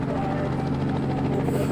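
An aircraft in a video game flies with a loud, steady, droning rotor-like hum that fills the whole moment without a break.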